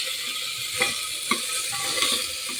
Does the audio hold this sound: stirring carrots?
yes